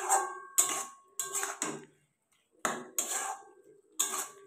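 A metal spatula scrapes and clatters against a pan while bottle gourd and fried egg are stirred together, coming in several short bursts of clinking strokes separated by pauses, close and fairly loud with no talk.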